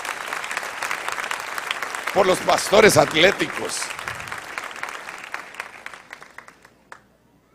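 A church congregation claps and cheers in a short burst that swells and then fades out, with a preacher talking loudly over it.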